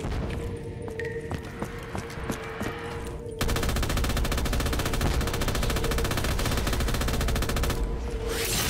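Gunfire from a Black Ops III custom zombies game: scattered single shots at first, then a long, loud, unbroken machine-gun burst that runs almost to the end.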